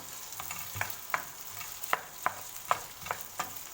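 Potatoes fry in a pan for a potato omelette, a steady soft sizzle underneath, punctuated by about eight sharp scraping stirs at a regular, unhurried pace, with no talk.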